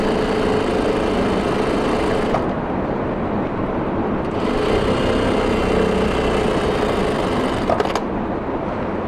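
A sewing machine runs steadily and close up, stitching a half-boot seam along the hem of shalwar fabric, with two brief pauses around the second and fourth seconds before the motor whirs on.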